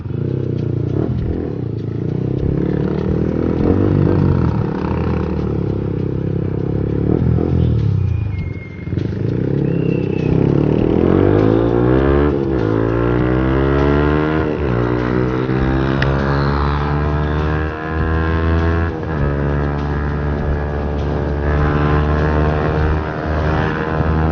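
A modified 2019 Yamaha MT15 motorcycle engine revs steadily while riding, loud and close, its pitch climbing and dropping through repeated throttle sweeps and gear changes, with wind roar throughout.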